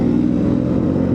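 Bajaj NS400Z motorcycle on radial tires rolling past in a city, its mid-pitched engine note loud and steady throughout, with no voices over it.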